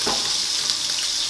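Food searing in a hot pan gives a steady, loud, close sizzling hiss that stays unbroken throughout.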